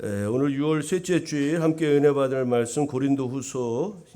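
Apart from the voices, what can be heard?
No everyday noises stand out.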